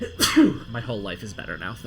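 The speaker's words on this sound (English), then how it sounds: "Sorry, I gotta sneeze." A single sharp sneeze bursts out near the start, close and loud, followed by a person talking in a normal conversational voice.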